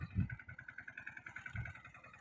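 A tractor pulls fencing wire across a farm field, its engine chugging in an even, rapid low pulse that sounds moderately distant and fairly faint.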